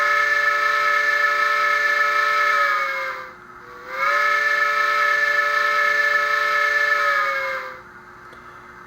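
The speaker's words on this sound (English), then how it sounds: "short whistle, long whistle, or you can basically hold it" A Bachmann Spectrum 2-8-0 Santa Fe model steam locomotive sounds two long, held whistle blasts close up, each a steady multi-tone chime that bends slightly in pitch at the ends, separated by a short pause and soft hiss.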